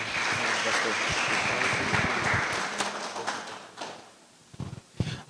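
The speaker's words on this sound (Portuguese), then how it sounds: "Aplauda o Senhor mais uma vez." Congregational applause at an evening online church service, a dense wash of clapping that fills the space, then thins out into a few scattered claps near the end.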